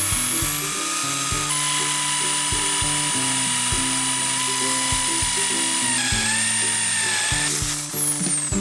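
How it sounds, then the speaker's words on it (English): A power drill bores a hole into a metal blank clamped in a vise, a loud whining motor with rising and falling pitch and repeated bursts of grinding. "and drill a hole."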